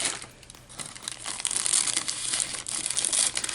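Scissors cutting through a scrap of patterned paper, producing continuous close crinkling and snipping that grows louder partway through.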